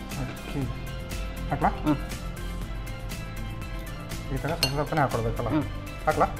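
A utensil clinks against a bowl or pan as jaggery water is stirred into a ragi mixture for ragi churmunde, with scattered bright taps and scrapes under steady talk.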